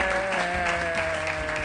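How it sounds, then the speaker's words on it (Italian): Studio audience applause on a televised cooking competition, a brief dense patter of clapping at steady loudness with a faint tonal background. "Fatti un applauso."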